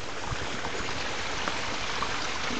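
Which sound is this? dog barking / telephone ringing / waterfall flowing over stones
waterfall flowing over stones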